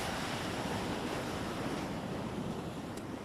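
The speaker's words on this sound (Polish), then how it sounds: "tutaj jest morze, kanał i jest odpływ w tej chwili" Sea surf washing onto a chalky shore with a channel at low tide, a steady close roar of breaking waves mixed with wind buffeting the microphone, with no pauses.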